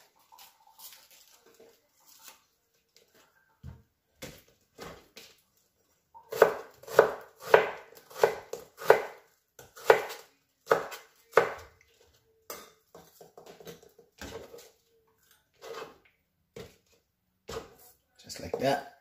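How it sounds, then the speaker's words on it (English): A knife slices onions on a cutting board in quick bursts of rhythmic taps, close by, with some pauses between bursts. "So we'll just slice a little bit of our onions."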